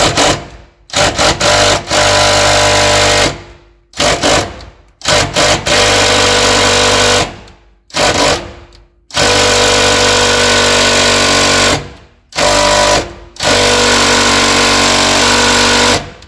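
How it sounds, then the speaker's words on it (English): A power tool works a stuck bolt on a 1955 Dodge in repeated loud, close bursts of whirring and rattling, each a second or more long and separated by short silent pauses. "We're just going back and forth, tightening and loosening, just trying to get it to jimmy loose."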